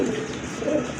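A big male Lahore pigeon coos up close, making two low, throaty rolling coos in quick succession.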